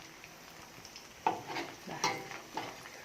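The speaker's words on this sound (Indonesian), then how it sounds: "kita goreng sampai kecoklatan ya" Small vegetable nuggets frying in oil until browned, a steady soft sizzle with a few louder stirring clatters from a pan, close by; a voice utters one brief word.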